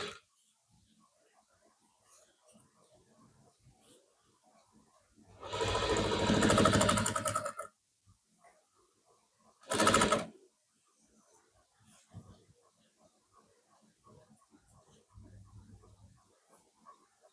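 A sewing machine stitching the folded corner of a blouse border runs in two bursts, a longer whirring run of about two seconds and a short second one, close and loud, with quiet talk between them.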